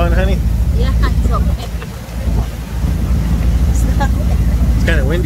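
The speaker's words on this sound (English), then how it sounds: "It's kind of windy out here." Heavy low rumbling wind buffeting the microphone throughout outdoors near the bridge at South Padre Island, with voices talking underneath.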